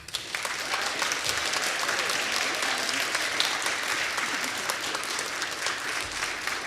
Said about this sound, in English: Let's applaud these new community leaders.